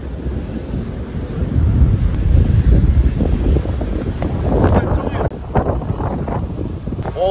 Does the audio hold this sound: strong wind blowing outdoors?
yes